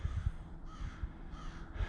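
Crows caw outdoors in repeated harsh calls at moderate distance, several overlapping over a steady background, with no voices.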